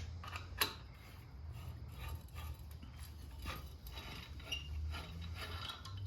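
A ratchet clicks faintly at a bolt on a 2014 Yamaha Bolt 950cc motorcycle, with irregular short bursts of ratcheting over a low background hum.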